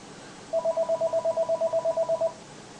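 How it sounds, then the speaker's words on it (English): A telephone rings in a rapid repeating electronic trill, about fifteen short even pulses over under two seconds, clear and fairly loud against quiet background, with no talking. "Telephone ringing off the wall."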